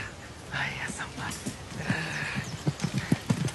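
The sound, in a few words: horse hooves clip-clopping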